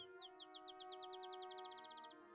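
A field sparrow sings a clear run of sweet, whistled notes that quicken into an even trill, rather faint against a quiet background.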